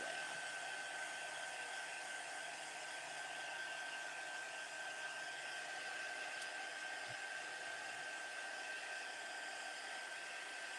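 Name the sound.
heat dryer blowing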